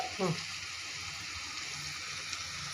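A coriander leaf, green chilli and salt mixture hits a hot pan and sets off a steady, moderate sizzle, with a brief voice sound at the start.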